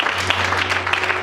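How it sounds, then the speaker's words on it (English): A church congregation claps their hands together during a service, a dense steady patter of many palms filling the space for a brief moment, with a low hum underneath. "Let's clap our hands for her."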